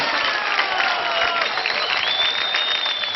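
Loud, steady applause from a talent show audience fills the stage hall with dense, continuous clapping and a little cheering.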